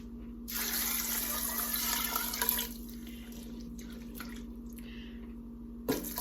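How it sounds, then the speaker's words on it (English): Water pours from a tap into a non-reactive pot over huckleberries, a steady splashing fill for about two seconds before tapering to faint trickles and drips. "we're going to fill this to just covering them with water"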